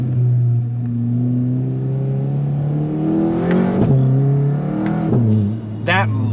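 A Volkswagen MK7 GTI's engine climbs in pitch under acceleration with a rising whine layered over the engine note. The whine dips at gear changes and then climbs again. Someone talks over it from inside the car.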